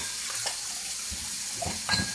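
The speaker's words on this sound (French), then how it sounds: "Je fais vraiment ma vaisselle en l'air, regarde." Dishes being washed by hand in a home kitchen behind the scenes of a live cooking stream: splashing water, clinking dishware and scraping under a steady running-water hiss, close and moderately loud, with no talking.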